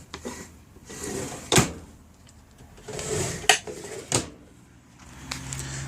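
Pop-lock drawers inside a pop-up truck camper with hardwood floors are pulled open and pushed shut several times, each giving a sharp wooden clack and latch click, close and distinct.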